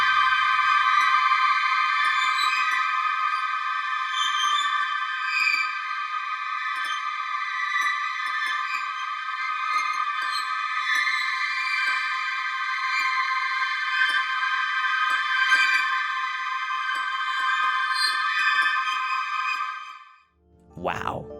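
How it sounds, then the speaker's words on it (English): A sonification of the M51 Whirlpool galaxy forms a sustained, shimmering, bell-like drone of layered high tones with faint flickering accents, holding steady for about twenty seconds before fading out. "M51 sonification."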